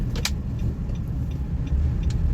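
A 2016 Nissan X-Trail NHT32 hybrid with a faulty brake system rolls along on a short test drive, a steady close road and cabin rumble with a few faint clicks and no talking.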